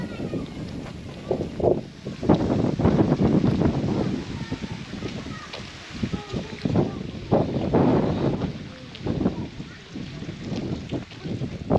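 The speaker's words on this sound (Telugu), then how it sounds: "గాలి అయితే విపరీతంగా వస్తుంది." Strong wind buffets the microphone in rough, gusting bursts near Araku, with a voice speaking now and then beneath the roar.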